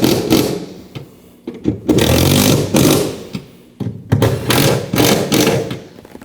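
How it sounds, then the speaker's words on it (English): A power tool runs in short bursts while tightening strut nuts on a 2003-2008 Subaru Forester rear strut and spring assembly, loud, close whirring spurts separated by brief pauses. "Tighten your nuts."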